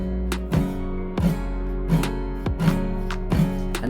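Guitar chord strummed repeatedly, about six evenly spaced strums that each ring briefly before the next, close and clear with no talking.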